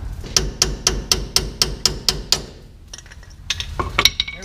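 A ball peen hammer strikes metal parts during a truck axle seal swap: about nine sharp, ringing blows at a steady rhythm, then a pause with light clinks before a few more hits.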